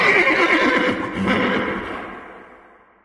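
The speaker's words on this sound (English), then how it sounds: "Two horses thundered past her" Horses gallop hard past at a race, with loud drumming hooves and a sharp neigh. The thundering rush is close and strong, then fades steadily as the animals move away.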